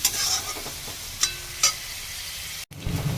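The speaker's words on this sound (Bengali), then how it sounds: "চিকেনগুলো ভাজার জন্য বসিয়ে দিয়েছি।" Chicken pieces frying in hot oil with garlic in a pan for chicken pasta, a steady close sizzle with a few brief stirring scrapes and clinks, no talk.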